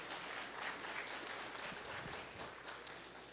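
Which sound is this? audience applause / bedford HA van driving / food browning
audience applause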